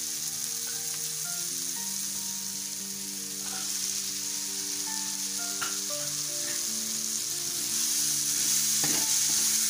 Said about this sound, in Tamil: இதை ஒரு 2 or 3 minutes லோ ஃப்ளேமில் வச்சு கொஞ்சம் நல்லா வதக்கணும்.